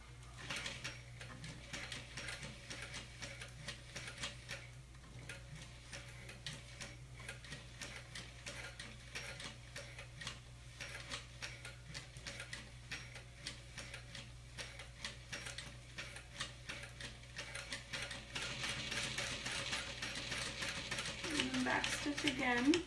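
Sewing machine stitching and backstitching a fabric pouch, a steady mechanical ticking run with a constant motor hum, growing busier and louder toward the end.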